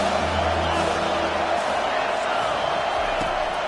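Stadium crowd in an EA college football video game, a broad steady roar of cheering voices filling the background with no clear breaks.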